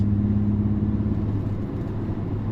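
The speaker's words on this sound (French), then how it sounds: "Mais ouais, le bruit du moteur, il me choque." Cabin view of a 2022 BMW X4 M40d diesel with a Stage 1 tune at about 400 hp, its engine giving a steady, loud low rumble with a droning hum while driving, with no talk over it.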